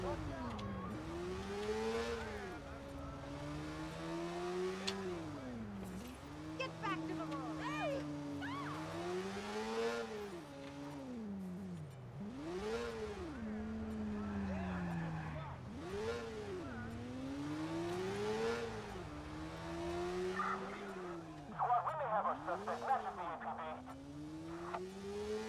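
A motorcycle in the video game Watch Dogs revs and shifts repeatedly, its engine pitch climbing and dropping in waves while weaving through traffic, with a voice talking over it throughout and a brief tire screech near the end.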